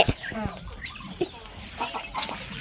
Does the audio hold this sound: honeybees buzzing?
no